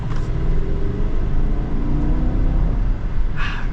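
The V8 of a 2022 GMC Yukon AT4 Black Package pulls hard under acceleration, a deep, steady engine rumble heard from inside the cabin across a few seconds, with no speech.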